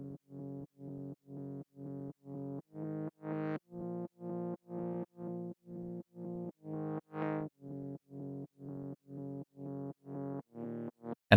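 A distorted saw-wave synth plays a steady run of short, evenly spaced buzzing notes, bright and gritty, with the tone shifting on a few hits.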